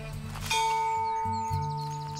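Gatehouse bell in the video game Botany Manor rings with a clear two-tone ding-dong chime whose notes sustain over a low ambient game drone, with no one speaking.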